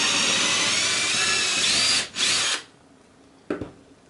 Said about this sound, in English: I've got a 1/4 inch drill here that we're going to use to make the pilot hole